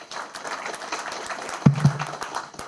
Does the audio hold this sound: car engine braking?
no